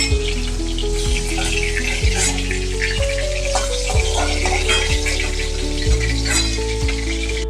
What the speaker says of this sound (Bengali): ফোড়নে দিয়ে দিচ্ছি কালো জিরে আর 2টো শুকনো লঙ্কা।